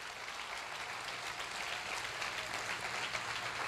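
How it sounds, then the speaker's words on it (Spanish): A church congregation applauds during a sermon, producing a steady wash of many hands clapping at once. It sounds moderately distant and stays even throughout, with no talking over it. "dale un fuerte aplauso al Rey de Reyes y Señor de Señores"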